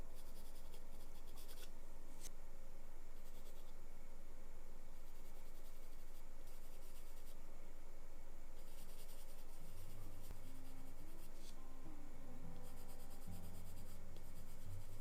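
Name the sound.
charcoal pencil drawing on paper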